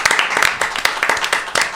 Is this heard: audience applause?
yes